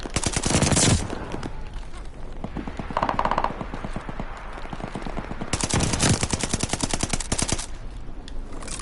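Gunfire in the Call of Duty Vanguard video game, loud rapid automatic bursts of machine-gun fire, dense and continuous with brief surges, close and dominant throughout.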